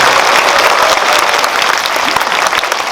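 A cinema audience at a post-screening talk with the director and actors claps loudly and continuously, a dense close wash of applause filling the whole stretch with no pause.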